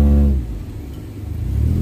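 A Honda CR-V's engine revs hard as its wheels spin offroad in mud, a loud low growl that dips briefly and then rises again, with no voices over it.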